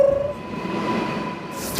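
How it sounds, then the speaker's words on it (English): A subway train rumbles through a station, a steady low roar of rolling cars at close range, opening with a brief tonal horn-like note and ending with a short hiss as the train settles. "The next Uptown Express train is approaching the station."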